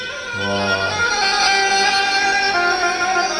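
Music plays loudly from a small Bluetooth speaker, a bright, dense mix with sustained tones, slightly tinny and compressed.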